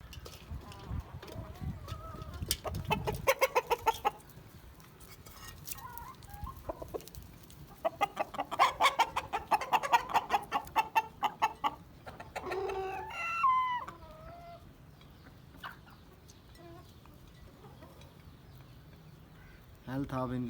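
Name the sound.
desi hens clucking on a small poultry farm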